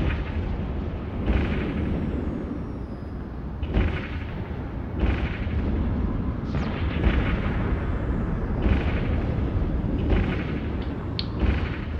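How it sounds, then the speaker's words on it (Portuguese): Spaceship weapons fire in EVE Online while the ship circles its target at about 1500 meters. Repeated booming shots land every couple of seconds over a steady low rumble. "Vou começar a atirar."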